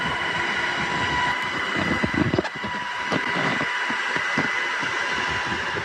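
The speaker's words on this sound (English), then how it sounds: "2 different helicopter assault teams from the Marines coming in" Marine assault-team helicopters fly in as a loud, steady mechanical roar with a faint rhythmic beating running through it, close and unbroken for several seconds.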